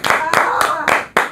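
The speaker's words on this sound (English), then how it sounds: "Clap for Liz." A few people clapping at home, five loud, distinct slaps spaced across a short burst, close by, with a voice talking over the claps.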